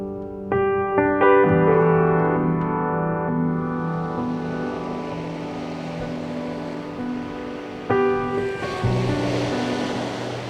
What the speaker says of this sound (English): I've brought myself down to the sort of water's edge now